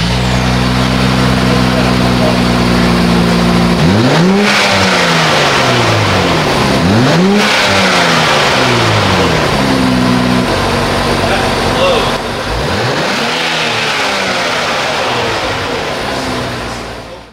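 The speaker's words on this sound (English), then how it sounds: "we'll kind of break in the muffler a bit too, and it'll get a little bit louder" A 2023 Nissan Z with a modified exhaust idles, then revs loudly several times, each rise sweeping up and dropping back, with a person talking over the engine.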